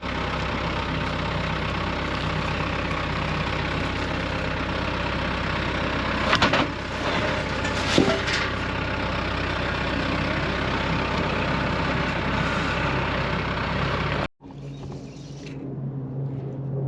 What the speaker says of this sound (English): we have to get on this tractor and go over there and get the roller bed